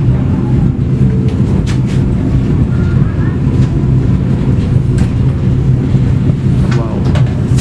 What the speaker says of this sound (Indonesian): Dan berpapasan atau bertemu dengan kereta Pasundan.